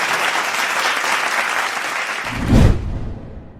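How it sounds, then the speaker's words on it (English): An audience at a conference on India-Japan strategic dialogue applauds loudly for about two seconds before the clapping fades out abruptly. "Can we have a round of applause for Minister Piyush Goyal, please?"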